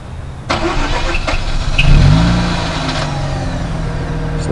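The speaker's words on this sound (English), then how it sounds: "And we can start the engine." Mazda RX-8 rotary engine starting remotely, a short cranking burst that catches into a rising rev and then settles into a steady, close idle hum, no talk.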